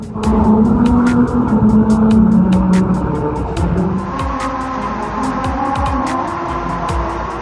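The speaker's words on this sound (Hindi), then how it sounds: "इन सड़कों के सरफेस पर स्पेशल ग्रूव्स लगाए गए हैं, जो टायर से रोड पर होने वाले फ्रिक्शन के हिसाब से म्यूजिक प्ले करते हैं।" Car tires rolling over a grooved musical road in Japan, a loud steady roar of tire and engine noise with a rhythmic series of sharp repeated ticks running throughout.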